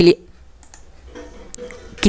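A computer mouse clicks a few times, quick and faint, at a desk while working in Excel, with spoken voice heard briefly at the start and end.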